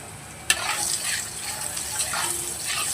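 Potatoes with salt and turmeric are stirred in a pan, beginning with a sharp clink of the utensil, then a steady sizzle with soft scraping and shuffling strokes at close range.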